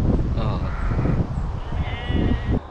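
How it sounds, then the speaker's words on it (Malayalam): Sheep bleating in an Irish village, several loud, close, drawn-out wavering bleats overlapping one another with little pause. "ആടുകൾ, ചെമ്മരി ആടുകൾ"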